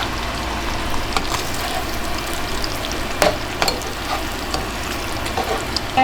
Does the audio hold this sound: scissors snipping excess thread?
no